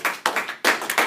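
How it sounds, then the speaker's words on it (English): A small classroom group gives a short round of applause for a student's answer: a few brisk, uneven bursts of hand claps, close and fairly quiet. "I think Jason deserves a round of applause for that response"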